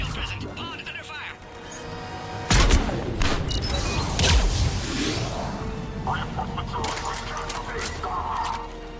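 Bursts of gunfire and heavy impacts strike an escape pod in a sci-fi video game, with louder hits around the middle over a steady rumble, while game voices talk over the action.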